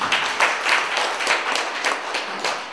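An audience claps for the dean at the opening ceremony of a university festival, a steady, fairly close run of hand claps with an even rhythm and no voices over it.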